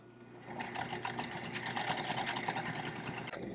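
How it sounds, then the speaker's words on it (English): A sewing machine stitches the band of an upcycled kid's garment together, a steady fast mechanical whir running nearly without pause for about three seconds before stopping, close and fairly quiet, with no talk. "So I'm going to start by just sewing the band together."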